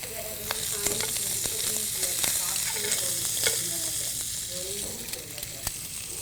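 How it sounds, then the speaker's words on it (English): Green beans in olive oil fry in a pan with a loud, continuous sizzle, and a utensil stirring and scraping through them keeps breaking in. No one speaks. "It's going to be like a stir fry saute. So we're sauteing it down."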